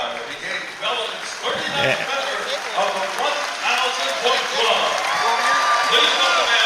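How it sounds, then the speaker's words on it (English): Basketball crowd and teammates applauding a player passing 1,000 career points in a college game, a sustained wash of clapping and cheering with faint commentary voices underneath. "Nice hand for Eberhard, and his teammates all out applauding, and Adam waves to the crowd here."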